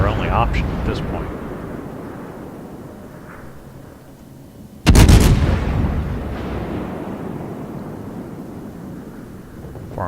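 A heavy cruiser's naval guns fire in a warship video game: one sudden loud boom ringing out and slowly fading, heard under a speaking voice.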